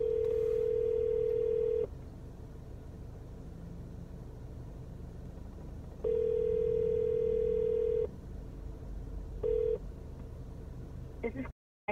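A phone call rings out over a car's speaker system: a steady ringback tone sounds in long bursts separated by pauses of a few seconds, with a low cabin rumble underneath throughout.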